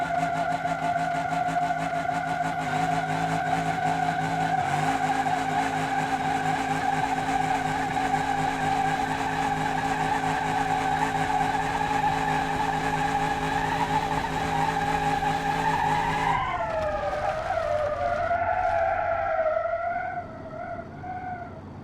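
A Crusher Moonhawk muscle car in BeamNG.drive hops its wheels with a long, loud tonal squeal over engine drone that holds steady, then bends downward and fades.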